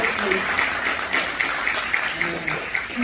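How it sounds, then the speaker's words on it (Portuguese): A congregation at a Sunday church service claps together in dense, steady applause, with a voice faintly audible underneath. "Uma salva de palmas para o nosso Senhor."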